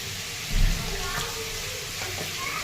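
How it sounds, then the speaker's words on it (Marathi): Chopped onion sizzles and crackles steadily in hot oil with cumin in a pan, fairly quiet and close, during paneer bhurji cooking. "तेलामध्ये आता कांदा टाकून घेते तर आता छान परतून घ्यायचा आहे कांदा"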